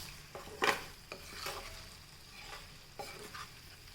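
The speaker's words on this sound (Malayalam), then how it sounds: "മസാല വഴറ്റിയെടുക്കാം." Masala of chili powder, turmeric and garam masala sautéed in a pan for prawns roast, heard as soft scraping stirs and a low sizzle, with a sharper clatter of the spoon near the start and light strokes after.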